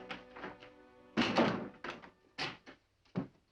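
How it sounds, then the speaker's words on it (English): An indoor door is shut in an old Western drama: a dull thunk followed by a few softer knocks and bumps, close and fairly quiet, with no talking. "Shut the door and come in."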